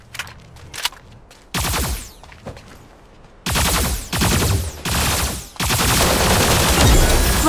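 Gunfire in the mecha shooter Super Mecha Champions comes as loud, close bursts of rapid automatic fire with short gaps between them. It ends in a long sustained volley, and faint clicks and shots come earlier.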